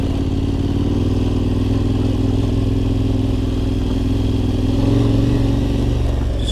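KTM motorcycle climbing a hill on a Bulgarian road, its engine a loud, continuous close-up drone that holds steady with a slight rise in pitch toward the end.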